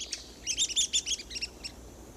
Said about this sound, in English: This small woodpecker, only 7 inches in length, has become famous for its finicky habits.